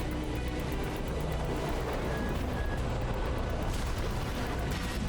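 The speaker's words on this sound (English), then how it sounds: "Missiles incoming." Dense, loud rumbling barrage of missile impacts and explosions in the mech combat game Armored Core 6, a continuous roaring wash with no pauses across the whole stretch.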